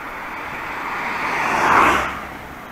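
A car passes along a snowy road, its tire and engine noise swelling to a peak and fading away over a couple of seconds.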